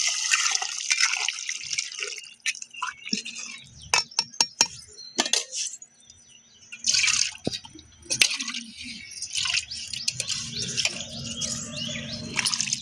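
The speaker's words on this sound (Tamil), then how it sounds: "இப்போ நம்ம புளி கரைசல் எடுத்து புளி மிளகாய் தூள் எல்லாமே கரைச்சி இதில் ஆட் பண்ணிடலாம்." A tamarind and chili powder mixture is poured into fish curry cooking on a wood-fired stove, with splashing, dripping liquid and clinking vessels scattered across the clip and a few faint background sounds.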